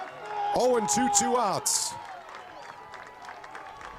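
High school baseball crowd at a Penn vs New Prairie game, New Prairie fans cheering and clapping, a brief swell under an announcer's close commentary before fading into background murmur.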